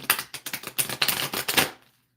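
A new Biblical Tarot card deck being shuffled by hand, giving a quick run of crisp, riffling flutters and snaps, close and fairly loud, ending abruptly in silence with no talking.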